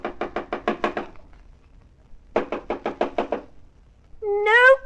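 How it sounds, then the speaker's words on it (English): Two sets of about seven sharp knocks on a door, evenly spaced and close, followed by a brief rising tone at the end. "Let me try knocking."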